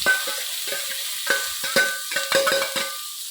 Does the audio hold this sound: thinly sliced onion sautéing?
yes